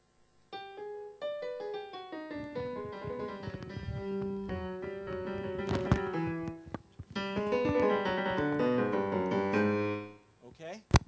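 Music played in a Middle Eastern scale, a melodic line of plucked or struck tones rising and falling in a flowing phrase, clear and moderately quiet, ending with a soft fade.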